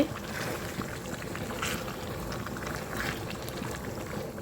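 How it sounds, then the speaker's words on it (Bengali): Cooked tripe reheats in a pot on the stove, a faint, steady simmering hiss with soft bubbling and no voices. "ওই ভুড়িটা গরম করতেছি"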